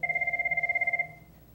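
An electronic telephone ringtone trills in a rapid, even pulsing pattern for about a second, fairly close and clear, then stops and leaves faint room tone.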